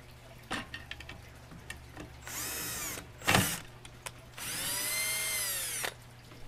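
A power drill drives long screws into a cart built from scrap materials, with two sustained whirring bursts and a shorter one in between, separated by quieter clicks and handling noises, close up.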